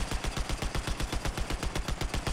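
Rapid automatic gunfire from Battlefield 4, a steady stream of evenly spaced shots roughly ten per second, loud and close, with no talking over it.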